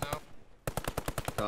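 Machine gun fire in the World War II video game Post Scriptum: a short, loud burst, then a brief pause and a second rapid string of evenly spaced shots, close and dominant.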